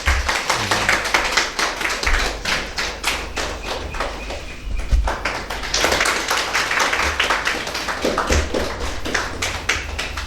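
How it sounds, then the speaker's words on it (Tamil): A Tamil spiritual gathering's audience claps hands to welcome someone speaker, a dense, sustained round of many hands with steady rhythm throughout, no talking over it. "கொஞ்சம் கைகளை தட்டி அவங்களுக்கு கொஞ்சம் ஆரவாரம் பண்ணுங்கள்"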